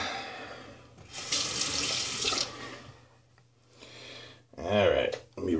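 Tap water runs into a sink while a shaving brush is rinsed after a straight razor shave, a steady splashing rush that swells, fades briefly and returns louder near the end.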